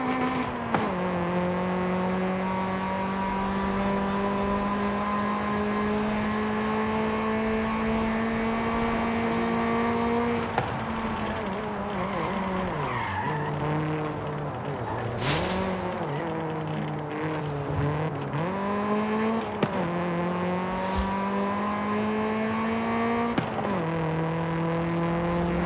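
A Honda Civic CRX Mugen races in Forza Horizon 5, its engine droning loud and continuous as it revs up through the gears with repeated shifts and short drops in pitch, plus brief tire noise.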